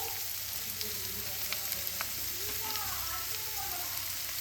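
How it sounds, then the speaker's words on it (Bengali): Chopped spring onions sizzle steadily in hot oil in a pan as ground spices are added, a constant close frying hiss with light stirring scrapes and soft background voices. "এবার আমি এই গুঁড়ো মশলাগুলো এর মধ্যে অ্যাড করবো।"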